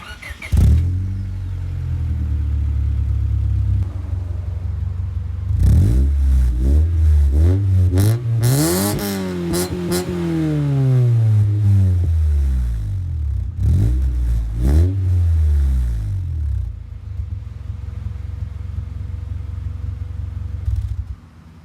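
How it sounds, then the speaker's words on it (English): A Honda Civic EK fitted with a Vibrant muffler idles with a low rumble, then revs in several rising and falling sweeps, loud and close, before settling back to a steady idle. "The muffler sounds pretty good"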